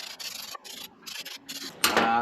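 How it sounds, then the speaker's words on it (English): Scraping and rubbing while bolt threads on a Vermeer 665 are cleaned, several short rasping strokes separated by brief pauses, close up, ending in a louder harsher scrape. "I'm gonna go ahead and clean these threads up on these bolts."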